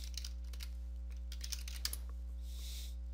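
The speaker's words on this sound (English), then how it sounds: "let's say we type in Facebook again" Computer keyboard typing in a browser, a quick run of light, distinct key clicks over a steady low electrical hum, ending in a short burst of faster taps.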